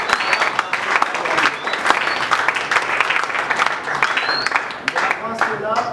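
Church congregation clapping and cheering in acclamation during a prayer and fasting service, loud and continuous with voices shouting throughout.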